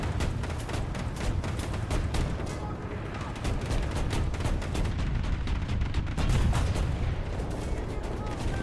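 Sustained machine gun fire in War Thunder, rapid loud bursts crackling almost nonstop with heavier booms mixed in across the whole stretch.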